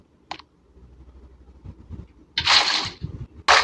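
In Minecraft, water is placed from a bucket, giving a brief splashing whoosh about half a second long after a faint click, then another short burst starts at the end.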